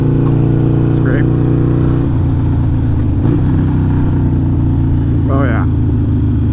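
A modified Harley-Davidson Iron 883 motorcycle engine thumps loud and close while riding, with a steady low throb that shifts pitch as the throttle changes.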